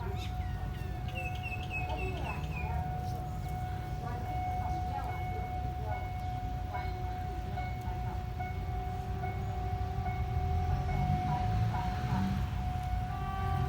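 A long, steady train horn tone held from start to finish, fairly distant, from an ordinary passenger train in Thailand, over a low rumbling engine and faint outdoor sounds.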